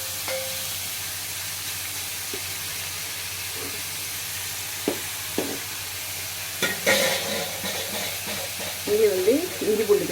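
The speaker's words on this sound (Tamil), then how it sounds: "இது வெங்காயம் வதங்கட்டும்." Onions sauté in a pan for idly fry, a steady close hiss of frying with occasional stirring scrapes and small crackles, while someone talks over it.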